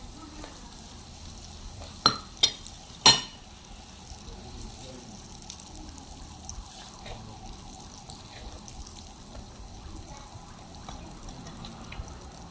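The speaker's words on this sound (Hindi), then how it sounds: "सारे मसाले डाल के इनको मिक्स कर लेना है।" Spices mixed in hot oil for garlic pickle give a quiet continuous sizzle, broken early by a few sharp metallic scrapes and clinks of a spoon against the pan.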